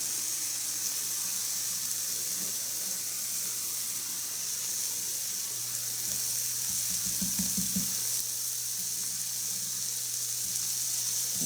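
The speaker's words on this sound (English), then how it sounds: "I just start pouring a little bit of water over the potatoes" Water poured into a hot pan of frying potatoes and sausage gives a steady, close hiss and sizzle that runs through the whole stretch, with a brief low bubbling surge partway in.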